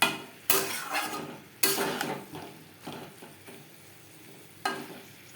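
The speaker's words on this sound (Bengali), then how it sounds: "ডাঁটার সাথে নারকেল ও লঙ্কার পেস্ট বেশ ভালো করে মিক্সড করে দেব।" A spoon stirs drumstick stems with coconut and chilli paste in a frying pan, with a few sharp scrapes and knocks against the metal over a soft, faint sizzle, and no voices.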